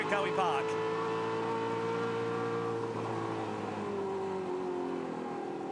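Onboard a race car lapping Pukekohe Park during a race, the engine droning steadily close up with shifting pitch as it accelerates and changes gear, holding loud throughout.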